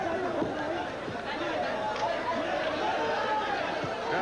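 Crowd chatter filling a boxing arena of some ten to twelve thousand people during the 13th round of the 1979 Benitez vs Palomino fight, a steady broad murmur with a voice talking over it.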